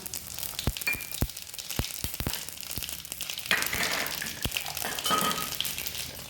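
Mustard seeds, cumin and two dried chillies frying in hot oil, a quiet crackling sizzle marked by sharp utensil taps and knocks at irregular intervals, with no voices.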